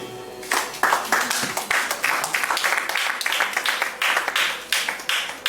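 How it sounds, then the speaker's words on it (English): An audience at a live event claps and applauds, a bright irregular patter of many hands that starts suddenly and carries on steadily, fairly close. "Please clap for her again."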